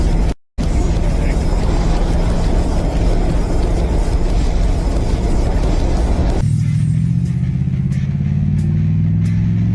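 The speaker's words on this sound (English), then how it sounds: "This is the fastest I've accelerated with it since putting this engine in." A fire-damaged diesel Oldsmobile 98 accelerates through third gear, its engine droning loud and steady from inside the car. The pitch drops after the shift, leaving a lower, rising hum with faint rattles.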